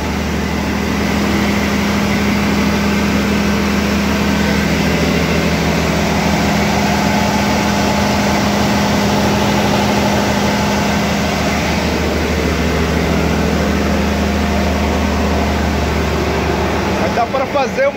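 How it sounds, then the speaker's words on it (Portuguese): Steady loud engine drone from the motor of a passenger boat on the river route toward Manaus, heard close by near a communal stove, continuous low rumble throughout. "Agora é barulho porque é perto do motor aqui"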